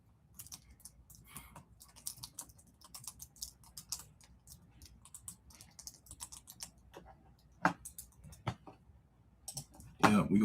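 Keys clacking on a computer keyboard as a message is typed into a live chat, steady irregular taps running throughout with a louder burst near the end, faint talk in the background.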